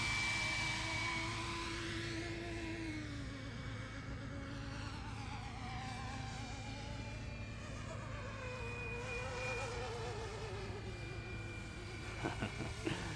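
A small RC helicopter makes a speed pass, its rotor drone whining and shifting pitch as head speed climbs, heard at a distance over steady outdoor background noise.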